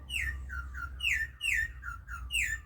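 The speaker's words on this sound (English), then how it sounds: "That's our troupial, the orange and black one." An orange and black troupial repeatedly calls, giving clear, loud whistled phrases that slide downward, several in quick succession with short gaps, over a low background hum.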